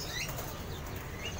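Caged birds at a bird market flap their wings, a brief close burst of fluttering over a dense, noisy market background, with no talk.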